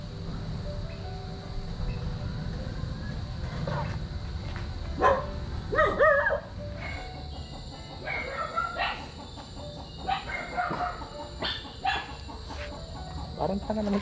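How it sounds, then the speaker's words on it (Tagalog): A pet dog barks a few times at moderate distance, short yappy bursts over a constant outdoor background hum, with people talking nearby. "Parang tanga naman itong aking aso na ito."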